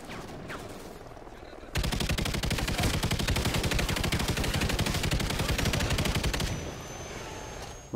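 Sustained machine gun fire tearing into helicopters in the Call of Duty Ghosts Sin City mission, a dense rapid burst of shots lasting about five seconds, loud and close, after quieter game ambience.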